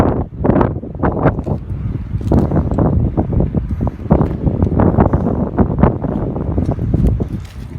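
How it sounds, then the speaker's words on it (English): Gusty wind buffets the microphone on the upstairs battlements of Fort Gilkicker, loud irregular rumbling bursts that rise and fall without pause. "Just wind disturbance up here."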